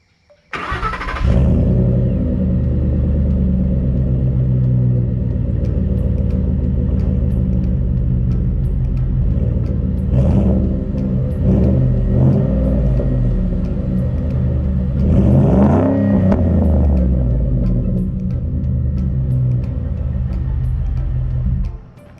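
A truck engine idles with a steady low rumble, then revs up a couple of times to around 2,000–2,500 rpm with rising whines before settling again; loud and close, no talking.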